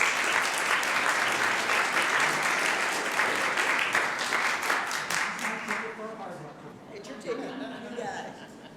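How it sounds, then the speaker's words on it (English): Audience applause greets outstanding individuals at a regional transit committee meeting, a dense steady round of many hands clapping that thins and fades toward the end as a few voices emerge. "So how about a round of applause for these outstanding individuals?"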